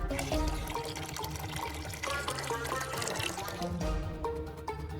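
Water poured into a LEGO wave machine, a continuous gushing and splashing pour with sloshing that runs throughout, fairly close and steady, with no talk over it.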